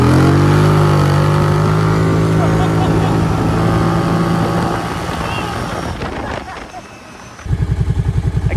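Kawasaki Brute Force 750 ATV with a freshly rebuilt carburetor pulling away from a full stop, its engine droning loud and close before the note drops, then settles into a lumpy, pulsing idle.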